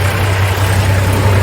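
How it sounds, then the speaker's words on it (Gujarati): A tractor runs along a road on the way to the fields, a loud, close engine drone with a strong low hum that stays constant over the short stretch. "તો હવે ટ્રેક્ટર લઈને આપણે નીકળી ગયા છીએ અને રસ્તામાં છીએ અત્યારે ટ્રેક્ટર આપણું હાલે"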